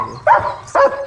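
A newly acquired dog gives two sharp barks about half a second apart, close and loud, with nothing else around them.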